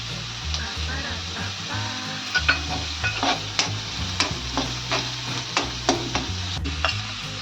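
Half a spoonful of mustard seeds crackles and sizzles in hot oil on a fast flame, with sharp popping bursts building over a constant fry and low background hum.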